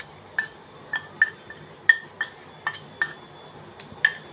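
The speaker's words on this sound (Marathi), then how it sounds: "छान हलवून द्यायची।" Milk kheer is stirred in a pot, with a spoon clinking against the metal about eight times in an uneven rhythm. The clinks are light and near, over a quiet background.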